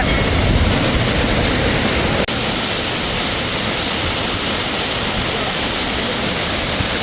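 Waterfall at Munnar, Kerala: loud, dense rushing water fills the whole clip as continuous broadband roar, close and steady, with no voices.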